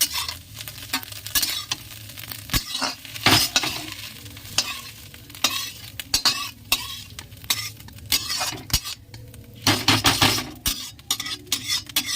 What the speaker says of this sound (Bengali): ভালো লাল লাল করে ডিমটা এবারে ভেজে নেবো